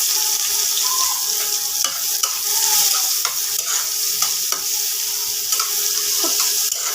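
Chopped onion frying in hot oil in a pan: a loud, continuous close sizzle with regular clicks and scrapes of a spatula stirring, with no talk over it.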